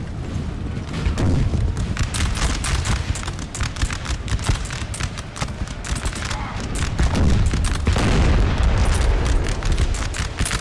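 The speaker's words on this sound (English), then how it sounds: "I'm trying to fire cluster shot." Cannons firing cluster shot on a Napoleonic battlefield in the strategy game Napoleon: Total War, a dense, continuous crackle of booming shots and musket-like volleys that swells louder toward the end.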